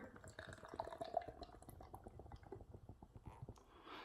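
Beer poured hard from a can into a glass, a faint, close gurgle and splash with frothy fizzing that keeps going for a few seconds.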